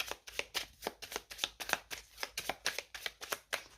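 Oracle cards are shuffled by hand, giving a fast regular run of crisp riffling snaps, about a dozen close, sharp bursts with no one talking.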